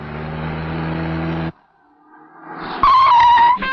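A car engine runs steadily, then cuts out into near silence before rising again with a loud high squeal like braking or tyre skid as the car comes to a stop.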